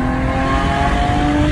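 A Lexus IS 250 engine revs up, a steady loud mid-pitched drone with rising harmonic tones, close and continuous with no talking.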